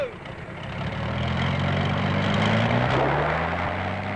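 A propeller aeroplane engine drones loud and steady, its tone rising slightly as wind noise swells, continuous with no voices.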